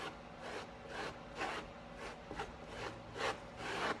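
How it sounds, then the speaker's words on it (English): Texture paste is scraped thin across a surface, about eight rhythmic rasping strokes, close and quiet with no talking. "As you can see, I'm scraping that once I get it on there to thin it out."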